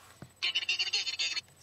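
A short electronic ringtone melody plays from a Verizon Wireless NV2 cell phone, a bright warbling burst of about a second, fairly loud and close with no talking.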